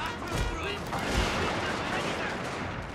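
Rifle infantry and artillery fire in a samurai-era strategy game battle, a dense continuous crackle of gunfire with heavy booming reports, loud and steady throughout with no pauses.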